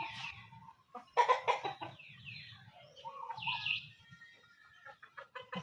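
Chickens cluck and squawk in irregular bursts at a chicken farm, fairly close and moderately loud, with short gaps of quiet between the calls.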